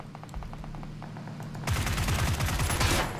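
Gunfire in PlayerUnknown's Battlegrounds: a quick run of faint distant shots, then a louder, nearer rattle of rapid automatic bursts over steady background noise.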